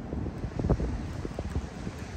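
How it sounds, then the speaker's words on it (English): Wind buffets a microphone on Vanderbilt Beach with a steady, full low roar and rumble that lasts throughout, with no voices. "Sorry about the wind."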